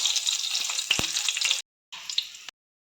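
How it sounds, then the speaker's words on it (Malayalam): Raisins fry in hot oil in a pan with a steady close hiss and small pops. The sizzle cuts out briefly, returns for a moment and then stops. "മുന്തിരി ഒന്ന് ഫ്രൈ ചെയ്തെടുക്കാം."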